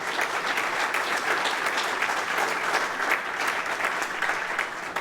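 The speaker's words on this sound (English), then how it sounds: "Let's give them a big round of applause" Steady, dense applause from an audience at a city council event for the Elm Street redevelopment and preservation housing project, continuous and fairly loud throughout without a break.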